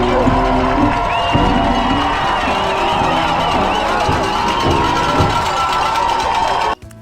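Spectators along the Marine Corps Marathon course cheer runners on, a loud continuous wash of crowd noise with whoops, shouts and children's voices, plus a sustained whistle or horn tone, cutting off abruptly near the end.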